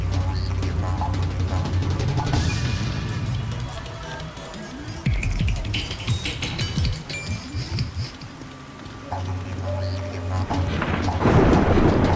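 Thunder rumbles in the video game Splinter Cell: Pandora Tomorrow, a loud, continuous roll over a rain-soaked outdoor setting, swelling and fading with a heavier crack near the end, and no talk.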